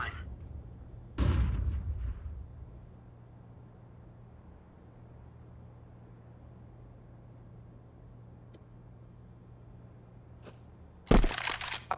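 A flashbang grenade in Counter-Strike 2 goes off as a sharp, loud burst with a trailing decay, followed by a long quiet stretch of low game ambience and then a second bright crack near the end.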